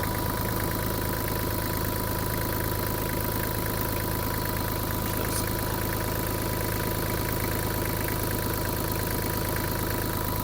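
Kubota KT-27 mini tractor with a 1.5-litre D1503 three-cylinder diesel engine idling steadily, a close, even, continuous rumble with a faint knocking pulse and no voices.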